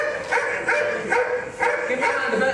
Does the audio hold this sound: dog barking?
yes